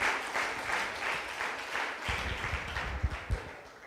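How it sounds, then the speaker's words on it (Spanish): Applause from a church congregation, a warm wash of many hands clapping, with a few louder, closer claps standing out near the end as it tapers. "Le hemos dicho antes que os dierais un aplauso por lo bonita que ha quedado la iglesia."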